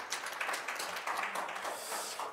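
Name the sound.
audience applause for the four session presenters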